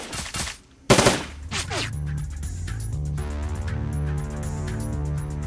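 Automated turrets in the PC game Shadowrun: Dragonfall unleash sustained rapid machine-gun fire, with an opening burst of loud shots followed by a steady, dense rattle of gunfire that continues to the end.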